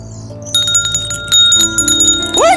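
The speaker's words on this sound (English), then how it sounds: "Let's ring the bell and awaken its spirit from the land of the dead." A bell on a pole is rung outdoors on a nature walk in Oregon, giving a quick series of loud, close, bright metallic strikes that ring on between hits.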